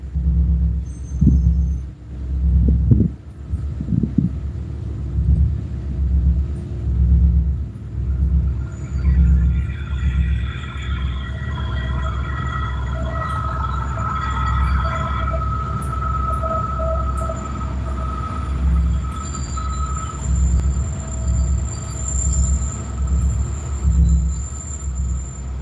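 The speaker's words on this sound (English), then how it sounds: "Here comes a train, folks." A train passes close by at a fishing spot: a loud engine rumble, a steady clatter of wheels over the rails, and high metallic squeals rising as the cars roll past for over twenty seconds.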